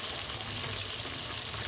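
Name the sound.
chicken pakoras frying in oil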